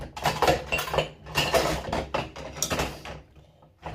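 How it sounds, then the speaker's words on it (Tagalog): Plates and cutlery clink and clatter repeatedly at close range, with water-like rinsing between the bursts of clattering. "Maghuhugas ako ng pinggan na aming pinagkainan."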